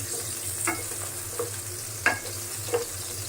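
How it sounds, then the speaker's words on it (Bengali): Soft sizzling of dried chilies frying in hot oil, punctuated by a few sharp clinks of a utensil against the pan. "শুকনো মরিচ একটু হালকা ভেজে নেই"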